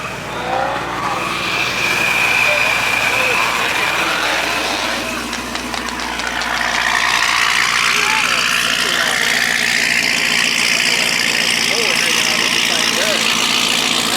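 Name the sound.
loud car with slick tires at a car show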